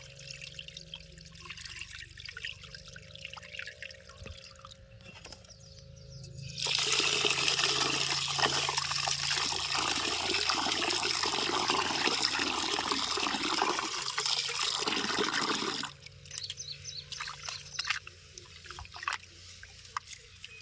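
Rice is washed in running water before soaking, with a loud, steady rush of tap water splashing for about nine seconds in the middle, set between quieter, muffled household background noise.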